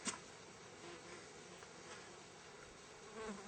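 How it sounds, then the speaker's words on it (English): Bees buzzing around outdoors, a continuous low insect drone close to the listener with slight swells, no voices. "bees are getting me, man."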